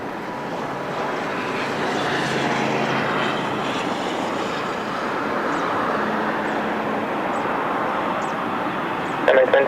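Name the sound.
Airbus A321neo jet rolling for takeoff to Paris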